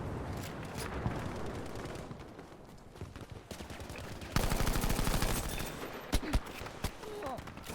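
Gunfire from an M1907 rifle in Battlefield 5: dense, rapid automatic bursts crackle loudly through the second half, with sharp isolated shots near the end, over a busy battlefield background.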